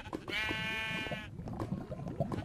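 A sheep bleats once in a modded Spanish-language block-building game, a single loud harmonic bleat lasting about a second, followed by soft game clatter and small background sounds.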